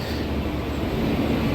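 The Saptagiri Express pulls out of Chennai Central, its steady low rumble and rolling rail noise heard from inside the train as a continuous, moderately loud drone.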